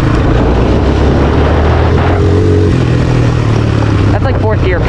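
A Yamaha Raptor 700 ATV engine, loud and close, droning and revving under wind buffeting, with a couple of sharper throttle blips near the end.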